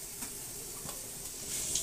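Potatoes frying in oil in a kadai, a soft continuous sizzle and crackle heard close up, fairly quiet and without talk.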